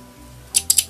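Small pointy embroidery scissors from a crochet hook set snip four times in quick succession, close and crisp, with no talk.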